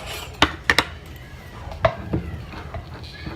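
A spoon scrapes and clinks against a jar of solid, hard coconut oil, three sharp taps close together and then a few softer knocks, near and fairly quiet.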